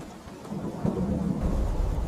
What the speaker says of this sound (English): The storm was roaring.